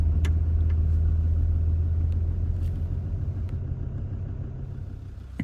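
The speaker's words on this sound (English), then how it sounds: "when you start it up from a cold start, it just fires away" A 2003 Land Rover Discovery 2 TD5 automatic diesel with about 77,000 miles runs with a deep, steady idle rumble close by, a few faint clicks sounding over the drone, which eases slightly toward the end.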